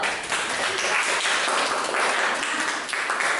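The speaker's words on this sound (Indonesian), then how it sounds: "Sekali lagi untuk yang ketiga kalinya kita beri aplaus dulu." An audience at a classroom teaching session claps steadily in sustained, dense applause that fills the whole stretch at an even, fairly loud level, with no voices over it.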